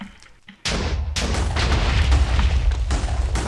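TNT detonating in Minecraft, a sudden loud blast that cuts in abruptly and rolls on as a heavy, sustained rumble.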